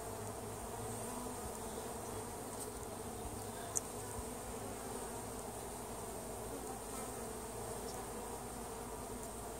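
Honeybees drone steadily from an open hive during an inspection near the base of the Sandia Mountains, a close, continuous buzz with no talk.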